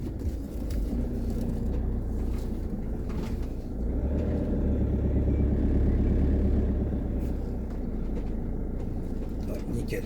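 A camper van crawling slowly over a low bump beneath its left wheel on a gentle slope, producing a continuous close, heavy engine and road rumble that stays steady throughout.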